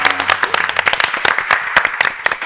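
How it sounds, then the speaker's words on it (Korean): A church congregation applauding, loud close clapping from a group with rapid uneven hand strikes over a brief burst. "우리 한번 박수하겠습니다"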